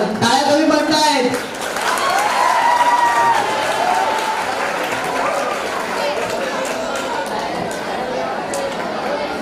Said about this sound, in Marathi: टाळ्या कमी पडतायत.